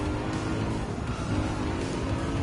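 A racing car overtakes a BMW on a hillside right-hand corner in Gran Turismo 7, with a steady loud engine drone and some tire noise held close throughout.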